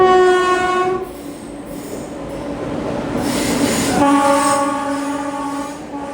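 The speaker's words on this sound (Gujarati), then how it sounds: "સામે પ્લેટફોર્મ નંબર 2 ઉપર આવેલી ગાડી 12934 કર્ણાવતી એક્સપ્રેસ છે, જે અમદાવાદથી ચાલીને મુંબઈ સેન્ટ્રલ સુધી જાય છે." The Karnavati Express passenger train, Ahmedabad to Mumbai Central, stands at platform two with a loud, sustained horn blast that breaks off and resumes over rumbling rail noise, close and with no talk.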